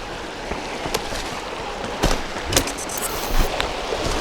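Fast, forceful water of a Rječina tributary stream in the Duboki Jarak gorge rushes steadily as a broadband wash, with a few brief louder surges; no voices.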